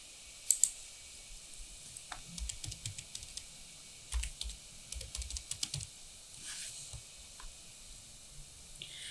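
A computer keyboard is typed on in short bursts of quick, crisp key clicks, close and fairly quiet over a low background hiss, with brief pauses between groups of keystrokes.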